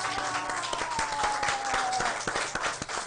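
Audience applause for the children's choir Le Cœur des Piccoli at a French-language media awards event, dense steady clapping filling the room throughout, with a faint background tone.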